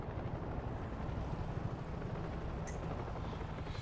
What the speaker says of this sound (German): die folgen dem Helikopter, glaube ich